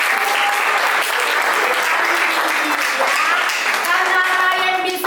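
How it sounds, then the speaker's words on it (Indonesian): Students in a classroom clap for a classmate in a sustained, even burst of applause, with faint children's voices and chatter audible through the clapping. "Tepuk tangan untuk Ryan."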